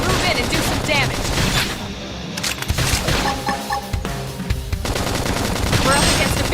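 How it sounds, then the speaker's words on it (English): Rapid bursts of gunfire and fusillades from the video game Xenoblade Chronicles X, loud and sustained across the clip, with booms and clatter mixed into busy game sound and voices. "Topple them with gunfire"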